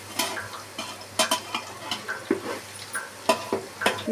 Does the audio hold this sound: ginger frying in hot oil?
yes